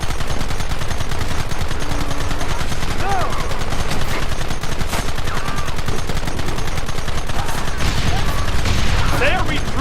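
A Red Dead Redemption shootout fills the air with relentless, loud gunfire, overlapping rapid shots and bursts with no pause, while voices shout faintly beneath the barrage.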